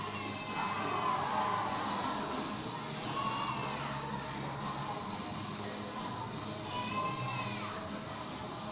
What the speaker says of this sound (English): It is loud in the Chaparrals Event Center tonight, guys. Man, this crowd is packed.